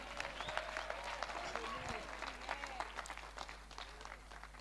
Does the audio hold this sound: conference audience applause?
yes